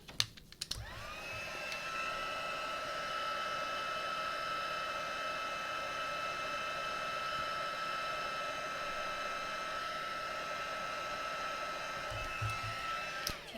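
Hair dryer blowing steadily on watercolour paint of Christmas stockings in a sketchbook, a close, continuous whooshing hum for about twelve seconds, switched on and off with faint clicks at each end.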